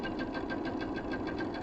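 Sewing machine running steadily in a quilting workshop, a continuous mechanical whir with a fast even stitching pulse, fairly close and alone without talk.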